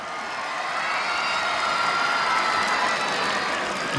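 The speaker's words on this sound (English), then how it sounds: "भाई इनके लिए एक और बार तालियां" A school audience applauds and cheers after a students' dance performance at a Children's Day celebration. The clapping and crowd noise form a loud, continuous roar that swells slightly and holds steady.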